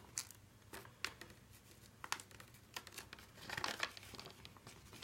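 Soft paper rustles and crinkles as a sheet is folded for an origami box, with quiet irregular creases and a brief scrunching swell near the end, faint and close with no talking.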